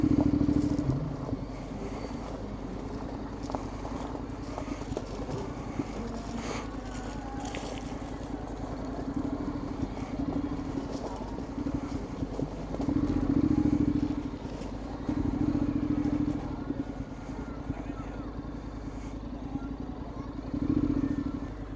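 A Honda X-ADV750 motorcycle rides in toward Malagundi Point, Batangas, its steady engine drone running continuously with buffeting wind noise and a few swells in loudness.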